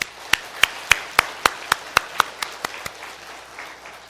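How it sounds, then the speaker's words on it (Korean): A church congregation claps together in thanks, with a series of sharp, evenly spaced unison claps that fade in strength and give way to quieter scattered clapping. "이 시간에 그 하나님 앞에 감사의 박수를 올려드리겠습니다"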